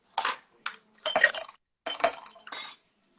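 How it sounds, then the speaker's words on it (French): Ice cubes drop into a drinking glass in several separate bursts of bright, close clinking and clattering, with quiet gaps between and no talk. "on va simplement mettre des glaçons dans le verre ici"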